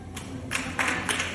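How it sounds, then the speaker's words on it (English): A handful of hand claps, sparse and uneven, a few separate slaps spaced across a moment, fairly quiet and close, with no voices over them. "Yay, let's clap."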